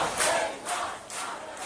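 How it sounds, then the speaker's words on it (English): A large crowd in Tehran welcomes returning Iranian climber Elnaz Rakabi, a loud mass of voices swelling in several broad waves of cheering and shouting throughout. "A large crowd gathered to welcome the 33-year-old Elnaz Rakabi"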